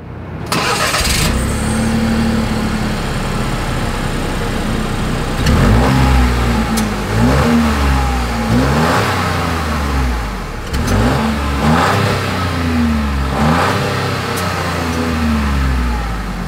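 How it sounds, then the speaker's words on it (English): A 2025 Chevrolet Trax compact SUV engine starts and idles, then revs up repeatedly through the exhaust in several rising bursts, loud and close. "As always, here is that exhaust clip."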